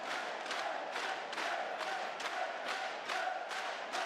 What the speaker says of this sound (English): Definitely the energy and the excitement of the crowd bringing the sound